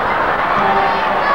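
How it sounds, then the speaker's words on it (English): Steady murmur of a basketball crowd during free throws at a 1990 NBL pre-season game between Perth and Adelaide at PEC, a dense, continuous hum of many voices at moderate distance with no distinct cheers. "A little noise from the crowd as the redhead lines up"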